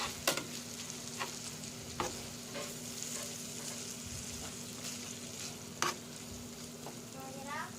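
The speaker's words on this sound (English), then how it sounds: "I like to add a can of tomato sauce. Stirring that really well." Tomato sauce stirred into chicken cooking in a pan for Mexican tostadas, a soft steady sizzle with occasional sharp clinks and scrapes of the spoon, fairly quiet and with no talking.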